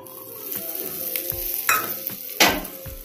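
Ghee sizzling over a cluster beans curry in a pan, a continuous crackle broken by a couple of sharper bursts and faint clinks, close with no voices.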